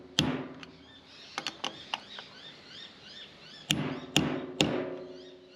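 A new gearbox seal being tapped into place with a hammer and socket, sharp metallic knocks in small clusters separated by pauses, close and fairly quiet in a workshop.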